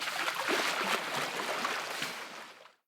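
Water splashes and sloshes in a dense, noisy burst lasting a few seconds before cutting off abruptly, loud and close with no voices.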